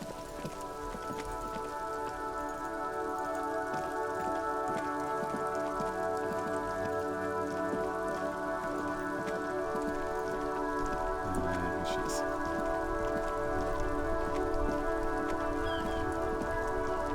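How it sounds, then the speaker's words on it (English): Steady, dense rain patters continuously in the video game Disco Elysium, with sustained tonal background music and no voices. "It's raining again."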